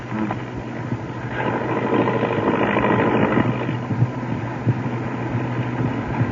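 A steady, droning airplane engine from a 1938 old-time radio drama, a continuous mid-level rumble that swells slightly in the middle and holds without pause, with no voices over it.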